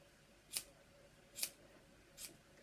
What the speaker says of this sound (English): and you can actually trim this up